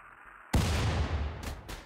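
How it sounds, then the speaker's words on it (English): Mortar shells fire in a combat video game, a sudden loud boom that rolls into a long rumbling tail, with two fainter follow-up bursts near the end. "we'll be sure to drop in a couple more mortar shells"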